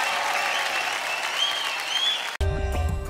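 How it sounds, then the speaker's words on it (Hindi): Audience applause and cheering for a singer on the Indian Idol TV show, a dense loud clapping wash that cuts abruptly into bright music near the end. "एक बार जोरदार तालियां हो जाए"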